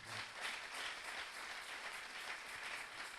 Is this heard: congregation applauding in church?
yes